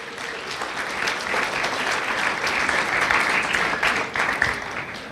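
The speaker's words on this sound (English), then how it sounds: "Let's give a round of applause to them also." An audience at a high school commencement ceremony gives a steady round of applause, dense clapping from many hands sustained evenly for several seconds without talk.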